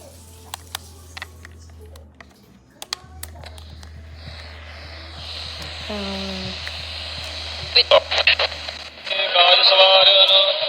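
A FosPower Model A1 emergency weather radio hisses with static while being tuned, scattered clicks and faint hum giving way to a louder, crackling burst of noise near the end, fairly close.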